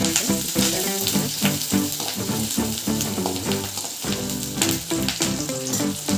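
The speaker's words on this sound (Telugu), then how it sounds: "చిన్నగా తరిగి పెట్టుకున్న ఉల్లిగడ్డ ఇవన్నీ అయితే ఫ్రై కానివ్వాలి." Chopped onion and curry leaves fry in a pan with oil, giving a continuous loud sizzle and crackle with rhythmic stirring scrapes, close up and without speech.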